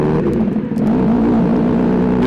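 Kawasaki Z900RS motorcycle fitted with a full titanium race exhaust, revving with a loud, raucous, steady drone up close, holding one sustained note through the short stretch with no voices.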